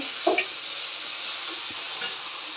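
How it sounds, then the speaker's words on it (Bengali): Tomatoes frying in a pan over fried onions for ghugni, a soft continuous sizzle with a couple of brief stirring knocks near the start. "টমেটোগুলো একটু ভালো করে ভাজা করে নেব"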